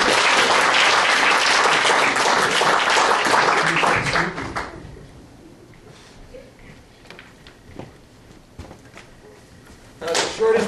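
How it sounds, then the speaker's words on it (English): Audience applause for a volunteer joining a performer on stage at a straitjacket escape show, a dense, loud burst of clapping that fades after about four seconds into quieter room noise, then a brief swell of clapping near the end. "Go ahead and give him a big round of applause."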